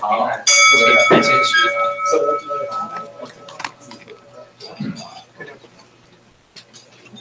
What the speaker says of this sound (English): President Wu, please read the opening bell.